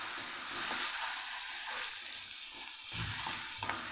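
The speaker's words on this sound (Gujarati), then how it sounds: "આદુ મરચાંની પેસ્ટ ઉમેરી દઈશું સરસ સાતડી લઈશું આપણે" Ginger chili paste frying with asafoetida in hot oil for a Kathiawadi ridge gourd and gathiya curry, a steady close hiss of sizzling with soft stirring scrapes, alone and fairly quiet.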